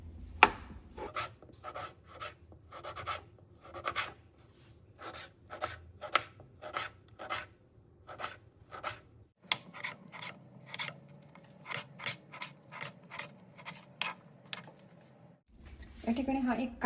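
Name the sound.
chopping a tomato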